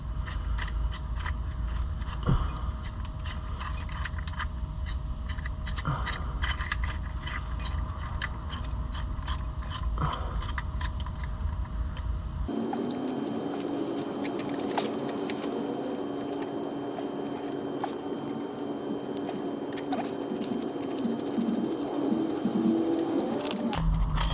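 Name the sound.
caliper compressing tool pushing brake piston back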